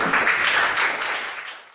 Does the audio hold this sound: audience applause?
yes